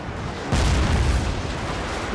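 Massed gunfire volleys rumble through a Fall of the Samurai battle at Toba Fushimi, starting abruptly as a loud, dense, continuous roar of overlapping shots and booms that stays heavy to the end.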